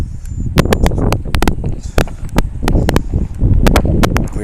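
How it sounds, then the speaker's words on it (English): Strong wind blusters outdoors near the Columbia Icefield, roaring steadily against the microphone while sharp clicks and taps punctuate the gusts. "It's gonna be really windy, and you're just gonna have to deal with it."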